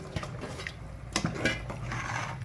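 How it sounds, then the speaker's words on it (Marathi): A spoon stirs vegetable pulao rice in a pot, scraping and clinking against the metal in a few uneven strokes over a low background hum. "आता आधी हलवून घ्यायचं, असं सगळं हलवून घेतलंय।"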